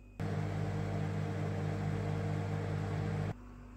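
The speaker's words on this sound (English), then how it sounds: "So I'm going to get this in the microwave now." A microwave oven heating a ready-meal luxury house special curry runs with a steady, even hum and whir for about three seconds, then stops abruptly, leaving a faint background hiss.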